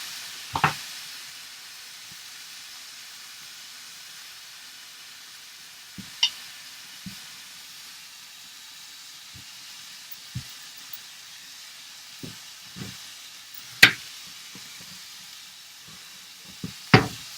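A steak frying in a pan just after being flipped makes a faint, steady hiss broken by scattered sharp pops and spits over a quiet background.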